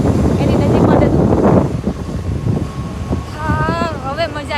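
Outdoors near DR World, wind buffets the microphone in loud, rumbling gusts for the first couple of seconds, then eases into a lighter rush under a person talking.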